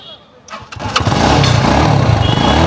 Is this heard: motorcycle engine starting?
yes